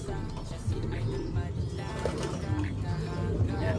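Pigeons coo repeatedly in a loft, low soft calls recurring throughout, with occasional wing flutters and a person talking nearby.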